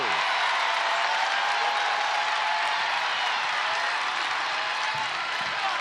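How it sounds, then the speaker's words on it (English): A packed arena crowd at an Ohio State women's basketball game against Tennessee in the NCAA second round roars in a steady, dense wall of cheering that holds at a loud level throughout. "Feel this Ohio State crowd hanging on, trying to will their team to make a run."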